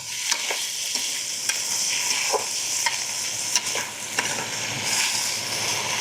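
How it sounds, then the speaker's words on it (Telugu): A spoon stirs a pan of fig guggillu, a boiled fig dish, scraping in steady strokes over a continuous sizzle, with light clinks along the way. "కాస్తంత అలా కలయి తిప్పి మరి కాస్తసేపు ఉడికించిన తర్వాత సిద్ధం కాబడుతుంది"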